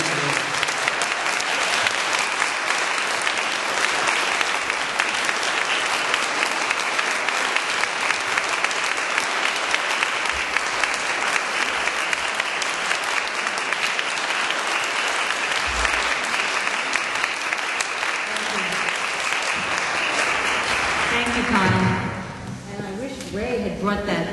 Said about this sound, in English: they should be applauded